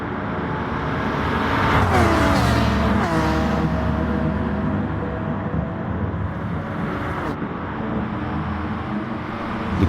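Race cars in Gran Turismo Sport, a Porsche, Corvette, Lamborghini and Ferrari battling at Sainte Croix, roar past in a dense, loud engine drone with rising revs and shifting pitch sweeps, continuous throughout.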